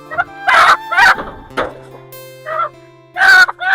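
Village country chicken clucking and squawking in short bursts, fairly loud and close, with a steady hum underneath.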